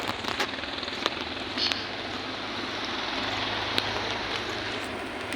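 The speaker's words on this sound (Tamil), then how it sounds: "மழை நிறைய வருது." Heavy evening rain falls outside a college gate, a dense, steady hiss that fills the whole stretch with faint scattered crackles and no voices.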